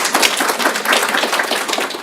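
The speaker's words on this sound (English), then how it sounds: "So we must applaud our dad here." An audience at an African studies keynote applauds, a steady dense patter of many hands clapping at moderate distance, sustained without a break.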